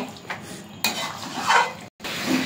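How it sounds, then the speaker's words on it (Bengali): Chicken meat, about two kilograms, stirred in a cooking pot on a home stove: close scraping and clanking of a utensil against the pot in a few uneven strokes, with a brief quiet gap, no talking. "এবার মাংসটাকে একটু ভালো করে নাড়াচাড়া করে ঢাকা দিয়ে দেব।"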